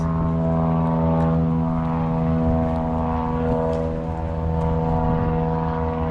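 Propeller airplane towing a banner overhead near a beach cemetery in New Smyrna Beach, Florida, a loud steady droning engine hum that holds throughout, close and continuous.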